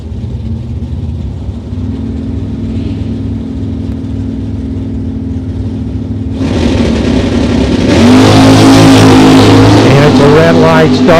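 Drag race cars at the Texas Turkey Hunt, including a '79 Camaro, idle with a low rumble, then the engines rev hard and blast off into a loud, rising roar at close range.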